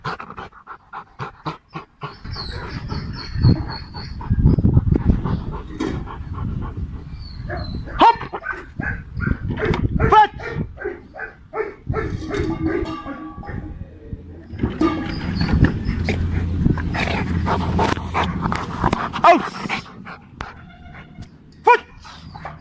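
A dog in obedience training pants hard and lets out sharp barks and whimpers in bursts, close and loud, while a handler calls commands over the activity.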